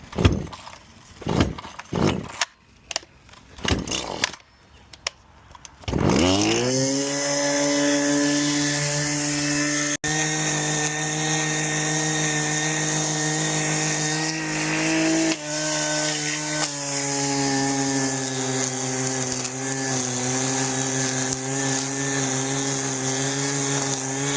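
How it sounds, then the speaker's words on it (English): Power trimmer yard work: a few sharp pull-start tugs and clatter, then a small engine catches and holds a steady, buzzing two-stroke drone close by for the rest of the time, alone without talk. "I'm about to do some trimming."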